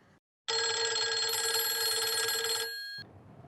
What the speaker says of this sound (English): This was a missed call.